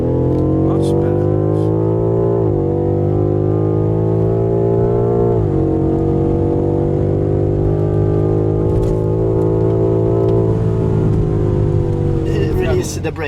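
A 625 HP BMW M5 Competition with M xDrive holds a launch-control rev, a loud, sustained engine drone whose pitch steps up in several stages as it accelerates, heard from inside the cabin.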